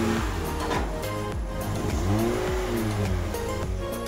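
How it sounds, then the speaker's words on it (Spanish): An Audi A4 2.8 being unloaded in a mechanic's workshop, its engine running steadily with rising and falling revs over continuous mechanical noise, fairly close and loud throughout with no talk. "aquí estamos descargando el coche"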